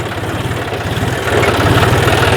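A GPS-steered tractor drives itself close by, its engine giving a steady low, rhythmic chugging that grows slightly louder near the end.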